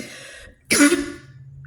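A single sharp, loud cough from a nearby person after a moment of quiet, trailing off quickly into low background noise.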